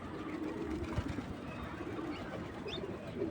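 Domestic pigeons cooing as they are hand-fed, a soft, steady murmur of low throaty coos running continuously underneath light background noise.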